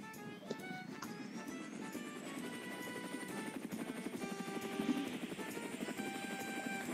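A military helicopter in Roblox Mad City whirs its rotors in a loud, continuous buzzing drone that holds steady throughout, with engine whine on top.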